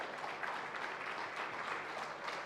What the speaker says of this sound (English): Let's make this applause more louder.